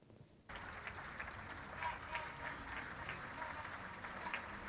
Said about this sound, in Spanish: Aplausos que se dan cada tarde-noche en la ciudad de Ávila y también en nuestra provincia